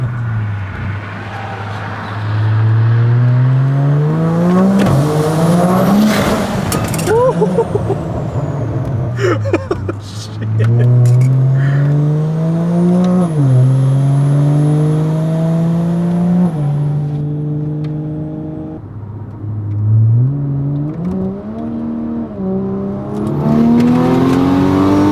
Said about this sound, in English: this exhaust sounds good